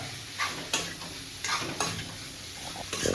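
Pork pieces seasoned with salt and turmeric fry quietly in a pan, the soft sizzle broken by several scraping stirs at irregular intervals.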